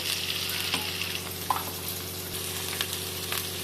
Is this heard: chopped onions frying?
yes